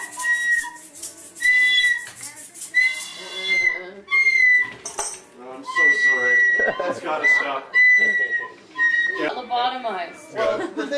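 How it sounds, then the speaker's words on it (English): A toy whistle blown repeatedly in short shrill toots among chatter and laughter from people nearby, with the whistle sounding close and loud between the voices. "Dibs on the whistle."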